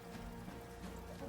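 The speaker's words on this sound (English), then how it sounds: "it's starting to pour down really heavily" Heavy rain pours down as a storm rolls in, giving a soft, continuous, even hiss of drops on surfaces, faint and unbroken throughout.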